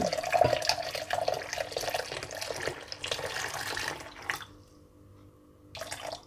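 Infused water for lemon cordial pours into a measuring jug, a continuous close splashing stream for several seconds that stops abruptly, followed by a quiet pause and a brief final dribble.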